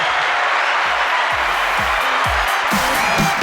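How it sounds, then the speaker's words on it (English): A canned applause and cheering sound effect fired from a soundboard during a rave-music podcast, a loud steady crowd wash with low voices talking briefly underneath. "Let me hit the applause for that"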